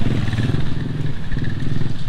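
Several motorcycles ride past along a seaside road in Bolasi, San Fabian, Pangasinan. Their engines make a loud, close, throbbing rumble that holds steady through the short moment, with no talk.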